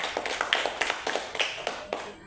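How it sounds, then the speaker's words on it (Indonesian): A small audience at an elementary school gathering claps for a teacher, a short run of quick, fairly close, uneven hand claps that fade out at the end. "Kita berikan dulu aplaus untuk Pak Guru kita"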